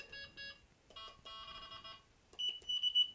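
Delkim Live fishing bite alarm sounding its electronic tones: clipped, high-pitched beeps in short bursts, then a steadier pulsing warble toward the end, loud and close with no voices.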